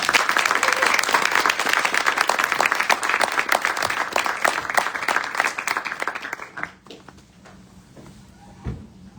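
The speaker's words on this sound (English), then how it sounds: "Please welcome him with a huge round of applause" Audience applause welcoming guest Shashi Tharoor at an MIT event, dense and loud for about six seconds before fading to a quiet room with a single late clap.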